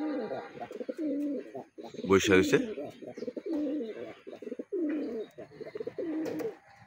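Male pigeons coo in a loft, soft repeated throaty calls close by, heard under someone talking.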